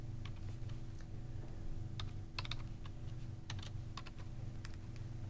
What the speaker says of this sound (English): go to discount codes, and type in some add-on video codes